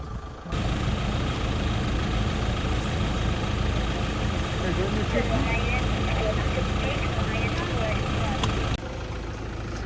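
A vehicle engine runs steadily at Griffon's Bush Camp in Marakele National Park, a continuous close, loud low rumble that holds at an even level for most of the stretch before easing slightly near the end.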